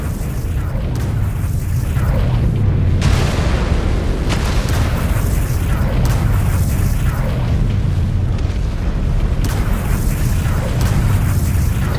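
Continuous rumbling barrage of missile explosions in the MechWarrior 5: Clans mech combat game, dense deep booms rolling over one another without pause and loud throughout.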